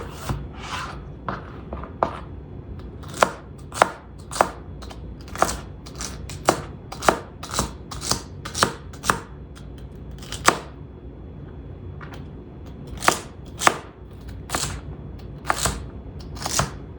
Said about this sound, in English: I will add some celery, cut it up small